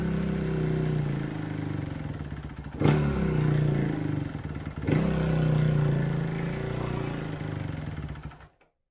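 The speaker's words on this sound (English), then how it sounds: "We'll warm it up with the choke on, the enrichment circuit." 2011 Kawasaki KX250F four-stroke dirt bike warming up on choke, a close, steady buzzing idle with two sharp rev blips, then the engine cuts off abruptly.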